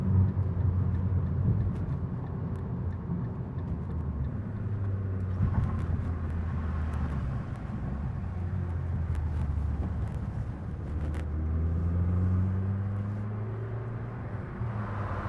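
A 2012 Fiat 500 Abarth engine cruising at 60 mph and about 2,500 RPM, a steady low drone inside the cabin with faint road rumble and no wind noise, continuous throughout.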